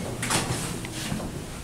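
Modded Schindler MT hydraulic elevator door at an IKEA in Emeryville, California sliding shut quickly, a short rumbling slide with a faint click near the end, heard close and alone.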